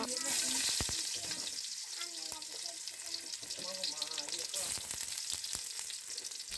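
A pot of biryani frying on the stove, with a steady bright sizzle running throughout, broken by occasional stirring clinks and scrapes, faint and close, under soft background chatter.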